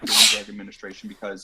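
A single loud, sharp sneeze bursts out at the start, followed right away by someone talking.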